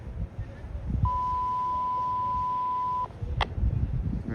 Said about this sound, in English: that beep you keep hearing